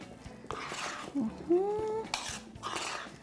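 A spoon scrapes and clinks against a bowl while a mixture is stirred up close, a few sharp clanks standing out over soft kitchen noise.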